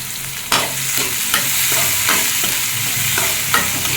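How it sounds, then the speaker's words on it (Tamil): Shallots and dried chillies frying in hot oil for a drumstick-leaf sambar tempering, a steady loud sizzle broken by a few sharp stirring scrapes, close and with no voices. "சின்ன வெங்காயம் சேர்த்துக்கோங்க. ரொம்ப டேஸ்ட்டாக இருக்கும்."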